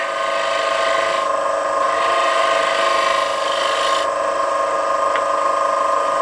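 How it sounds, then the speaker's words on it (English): A wood gouge taking a pull cut with one wing across a square bowl, giving a steady, loud scraping hiss with bright tonal whine throughout, likely spinning on a lathe, with no talking. "I'm just using one wing of the gouge and doing a pull cut"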